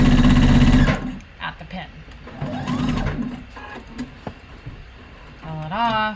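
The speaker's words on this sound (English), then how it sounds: "So I'm going to stop sewing" A sewing machine stitches a sleeve seam on a Paddington-style top, a loud steady run of rapid stitching at the start that cuts off, followed by someone talking close by.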